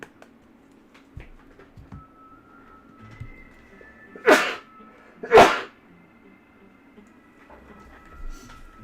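Two sharp sneezes about a second apart, loud and close, breaking a quiet indoor background with a few soft clicks and knocks.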